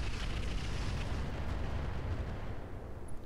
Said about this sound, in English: so let's use incendiaries on him